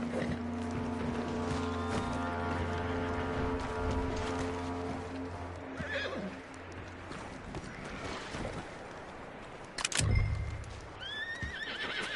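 A horse in the Red Dead Redemption 2 video game whinnies loudly, with clip-clopping hooves and an outdoor ambience of wind and water, then a sharp burst and a shorter second whinny toward the end.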